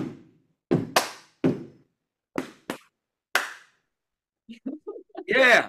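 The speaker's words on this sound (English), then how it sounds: "Foot, clap, foot, hit, clap." Body percussion of foot stomps and hand claps, a sparse rhythmic sequence of sharp separate hits with pauses between them, followed by a short burst of voice near the end.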